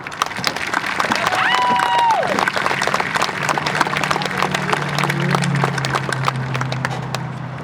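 Crowd at a high school graduation applauding graduates' families, dense steady clapping with scattered cheers and whoops, loud and sustained throughout.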